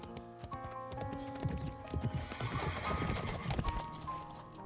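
Rhythmic clip-clop of horse hooves with a whinny in a romance video game, set in a sunny flower field, playing under a soft musical score at a modest level.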